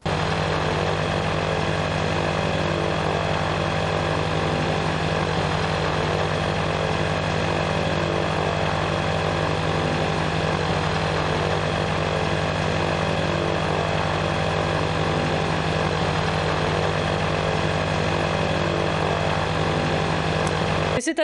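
A paramotor engine with its propeller drones steadily and loudly in flight, a constant dense buzzing roar that never lets up, with no speech over it.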